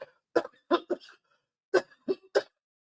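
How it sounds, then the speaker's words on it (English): A person coughs in a fitful series: two or three sharp coughs, a short pause, then another burst of three, close to the microphone in a quiet room. "This cough is the last thing to go, I'm telling you."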